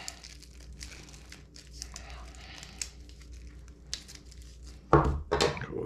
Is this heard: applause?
no